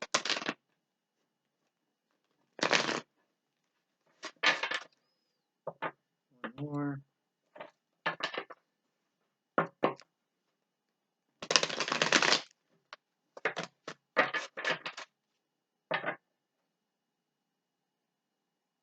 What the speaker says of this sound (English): let's go ahead and bring in the tarot. Give it a couple shuffles